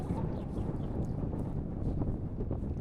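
Steady, blustery wind roars across the microphone on Mount Kostrycha in the Carpathians, a dense low rumble with gusty buffeting and no voices.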